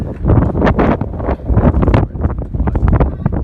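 Strong wind buffets the microphone in loud, continuous gusts in Tamsui, Taiwan, a rough roaring rush that rises and falls without a break.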